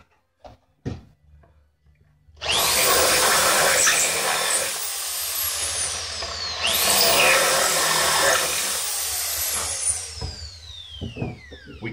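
A power drill enlarges holes in a PT-20 aircraft fuselage part, running in two loud, high-pitched bursts of several seconds each, preceded by a few sharp clicks and handling knocks.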